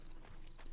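Faint, brief clip-clop of a horse's hooves in Red Dead Redemption 2, just a couple of soft steps heard quietly in the game.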